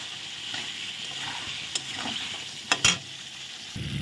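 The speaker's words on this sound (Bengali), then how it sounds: "দেখো একটু তেল দিই, আর একটু কষি।" Masala for rohu fish curry sautéing in oil, an even sizzle with soft scraping stirs and a few loud spatula clanks near the end, no voices.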